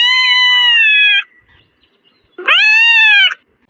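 A kitten meows twice, each a loud, clear, drawn-out cry close by, separated by a short silence.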